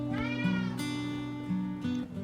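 Cats at an adoption shelter meow in drawn-out, wavering calls, several overlapping cries close by and fairly loud, with no talk.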